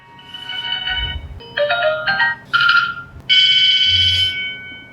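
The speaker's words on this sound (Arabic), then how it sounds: "بعد كده عندك اعدادات نغمه الرنين، تقدر تغير نغمه الساعه" A series of electronic ringtone melodies from a Zordai Z8 Ultra smartwatch play one after another, each a short, bright, tonal chime pattern with brief pauses between, heard clearly and alone.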